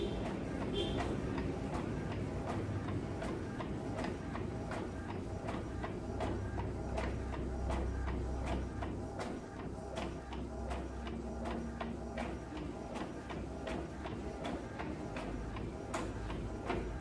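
An Epson L130 inkjet printer prints a page on A4 paper, running steadily with rhythmic ticking from the print head and a constant mechanical hum, heard close up and alone.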